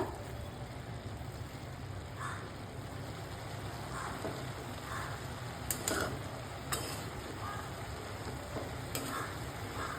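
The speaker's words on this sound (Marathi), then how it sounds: "मिक्स करून घेऊया।" Cabbage bhaji with crushed peanuts and coriander is stirred in a pan over a steady low sizzle, with faint intermittent scraping and clinks of the spatula throughout.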